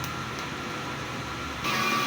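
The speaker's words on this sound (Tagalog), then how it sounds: "Pagkatapos natin mag-head clean, nozzle test." A DTF printer runs a nozzle test, giving a steady mechanical hum with a brighter carriage whir picking up near the end, heard alone without talk.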